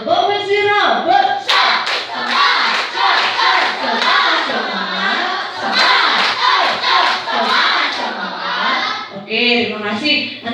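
An Indonesian primary classroom of children chants a robot clap routine, loud unison voices punctuated by crisp rhythmic group claps for several seconds, nearby and lively, ending with a teacher speaking.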